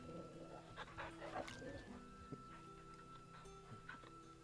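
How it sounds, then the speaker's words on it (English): Dog in the video game Final Fantasy XVI making short whimpers and soft yips amid game music and ambience, with someone talking over it. "I want to pet the dog."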